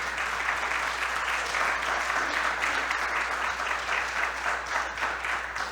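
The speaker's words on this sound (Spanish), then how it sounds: "Dele un aplauso de alabanza al Señor" Church congregation claps in praise during a service, a full, continuous burst of applause from many hands, steady and loud across the whole stretch with a low hum underneath and no speech.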